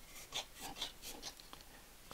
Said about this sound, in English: I'm just going to drop the sanding disc on.